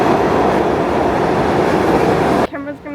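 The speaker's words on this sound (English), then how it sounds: "we're waiting for the train" A New York City subway train pulls in with a loud, dense rumble and roar that fills the platform, then cuts off abruptly, and a voice speaks right after.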